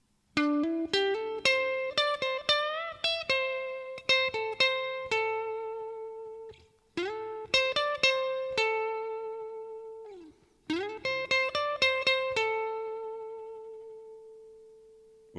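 An effects-laden electric guitar plays the closing section of a solo: three phrases of quick hammered-on notes, each settling into a long sustained note that rings out, clear and alone.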